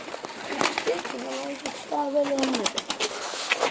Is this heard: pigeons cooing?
yes